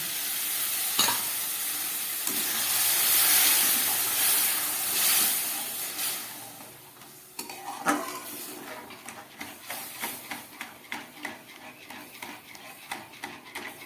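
Semolina cooking in milk for a barfi sweet hisses and steams in a pan at first, then a spoon stirs it in a run of quick, regular scraping strokes close by.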